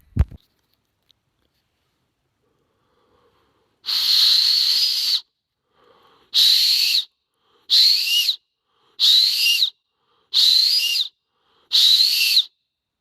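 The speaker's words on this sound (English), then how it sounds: "You can make it into a whistle. Just using your 2 thumbs, your lips, and your air." Leaf whistle, blown over a leaf held between two thumbs, producing six shrill, breathy, reedy blasts that start long and then shorten into regular bursts with brief silences between them, close and loud, with no talk.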